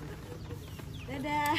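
A chicken clucks a few times at close range, with a voice and background chatter mixed in.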